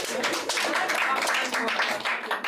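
An audience at a talk on personal branding breaks into clapping, a lively patter of many hands mixed with a speaking voice over it.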